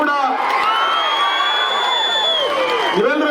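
Large crowd at a memorial event cheering and whooping loudly for Chief Minister Siddaramaiah's arrival, a dense, continuous roar with rising shouts up close.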